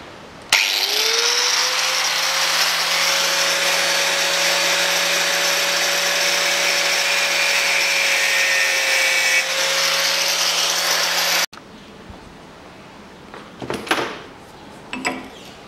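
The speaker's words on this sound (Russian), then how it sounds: "Будем болгаркой немножко надрезать. Вот так вот. Миллиметровый отрезной круг." An angle grinder fitted with a 1 mm cutting disc cuts into a hub bearing during a front hub bearing replacement on a 2003 Toyota Harrier, a loud steady high whine for about eleven seconds before it stops, followed by faint clatter.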